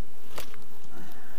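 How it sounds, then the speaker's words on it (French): European hornets flying around beehives give a loud, close buzz that swells briefly as one passes, over a faint background hum. "C'est des frelons européens"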